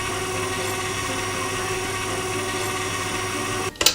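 An electric mixer whisks vegan royal icing with a steady, loud motor whine and a constant hum, then cuts off near the end, followed by a few brief clatters.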